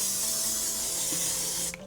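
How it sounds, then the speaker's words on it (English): A pump bottle of makeup setting spray mists onto a face in one long, loud, close hiss that runs almost two seconds before stopping abruptly, with no voices. "I like to spray my face a billion and one times"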